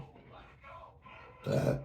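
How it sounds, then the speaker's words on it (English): After a stretch of murmuring voice, one loud, low burp breaks out close to the listener near the end. "confirmation burp, excuse me"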